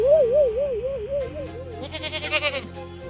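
A young goat bleats in a wavering, quavering cry, followed by a shorter, harsher burst of calling, fairly close and loud.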